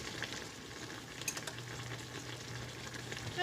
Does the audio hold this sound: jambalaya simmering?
yes